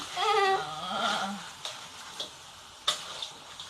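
Blue crab stir-fried with curry powder in a wok over low heat, with a soft sizzle and sparse sharp scraping ticks from the utensil. A brief voice is heard at the start.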